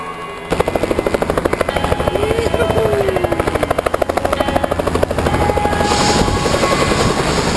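Loud, close tour helicopter at the Grand Canyon with rapid rhythmic rotor thumping and a high engine whine, continuous throughout.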